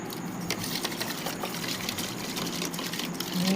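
Close, continuous sloshing and rubbing of spinach being washed by hand in a basin of salted water, with no talking.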